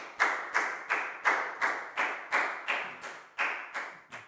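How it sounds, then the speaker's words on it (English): A classroom of Year 4 pupils claps for a classmate in a slow, steady unison rhythm of about eleven sharp claps, close and alone with no talking. "a big round of applause for Pat"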